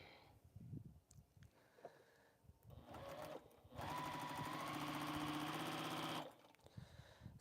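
A sewing machine stitching small fabric pieces for quilt strings: a steady rapid mechanical chatter lasting about two and a half seconds, fairly close, after some quiet handling sounds.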